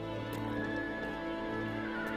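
A horse in a period Chinese drama setting makes low snorting and whinnying sounds amid shuffling hooves, fairly faint and close with a steady background hum.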